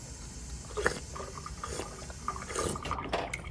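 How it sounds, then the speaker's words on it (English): Drinking water fountain in a building lobby running quietly, a soft trickle of water with small splashes and a few clicks, fairly close and faint. "I've never seen water fountains like that."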